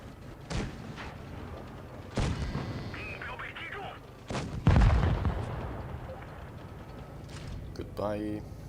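Heavy booming shots from a video-game tank cannon firing HE shells, several sharp blasts spaced a couple of seconds apart, the last one loudest with a rumbling tail, while a voice talks in between.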